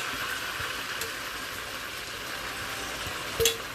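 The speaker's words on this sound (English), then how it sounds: "I just want to give that a chance to saute" Seasonings and rosemary sprigs sauté in a pot, a soft steady sizzle and crackle running throughout at low level with one brief louder pop near the end, no voices.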